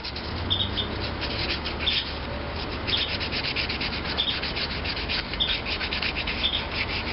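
Hand sanding a Maytag model 72 part in preparation for paint: steady rhythmic scratchy strokes of abrasive, close and continuous with regular back-and-forth pulses.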